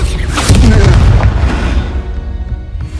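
The Confringo blasting spell goes off in the Hogwarts Legacy video game as a loud, deep boom that rolls and fades over a few seconds.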